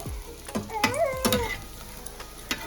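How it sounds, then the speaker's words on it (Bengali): Bread pieces fry in hot oil in a pan for a sweet dish, giving a crackling sizzle broken by a few sharp scraping and clattering stirring strokes close by. "যেহেতু রুটিটাকে এখানে ভেজে নেব"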